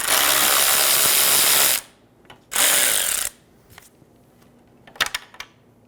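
A ratchet loosens the radiator fan resistor bolt on a 2000-2007 Ford Focus, sounding as a dense, loud clicking burst, a short pause, a second burst, then scattered faint ticks and taps.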